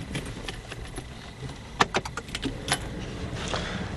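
Car keys jangle as they come out of a pocket while someone works on a Smart 451 window switch, with a cluster of bright metallic clinks in the middle and lighter rattles after, close and fairly clear over a low background.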